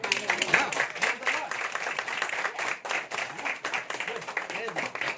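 A church congregation claps during a Hindi sermon and baptism service, with loud rolling applause mixed with voices throughout, rising and falling in bursts.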